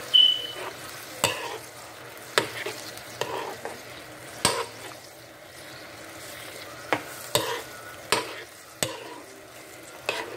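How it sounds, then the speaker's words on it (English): Spoon stirring coconut oil and cream of coconut in a pot over high heat, a soft steady sizzle broken by about a dozen sharp, irregular scraping clinks against the metal, close and alone. "And I'm gonna stir it up."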